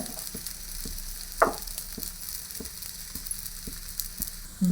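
Holige flatbread sizzles steadily in oil on a pan, a constant close frying hiss with soft periodic taps from turning or pressing the bread.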